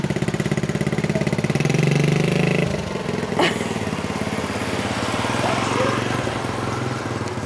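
A motorcycle engine runs steadily nearby, its low buzzing drone easing slightly after a few seconds, with voices faintly beneath it.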